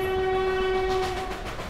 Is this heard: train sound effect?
yes